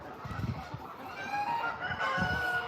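Chickens housed indoors in a building cluck and call, with a crowing rooster among them, in several moderately close bursts of sound against a quiet background.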